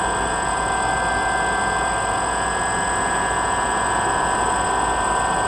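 A second-hand DJI Phantom drone sits with its motors idling, a steady high-pitched electric whine with layered tonal hums that stays constant and close throughout, with no voices.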